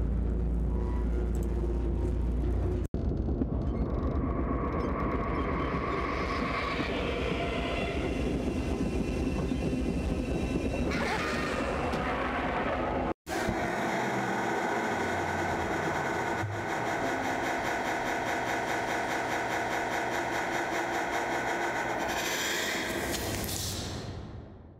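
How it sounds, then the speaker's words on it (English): Trains recorded at Copenhagen Central Station, used as game audio: a loud, steady rumble of rolling rail cars with clattering wheels, a brief cut midway, then continuous mechanical rolling noise that fades out at the end. "it's just a train, is the sound of some recordings I found of a train, and some trains recorded at the Copenhagen Central Station"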